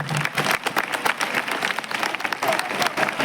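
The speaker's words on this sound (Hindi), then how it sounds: "अपने लिए जोरदार तालियां बजाओ।" Audience at a college youth festival claps loudly and steadily, a dense, continuous applause filling the hall with scattered claps standing out.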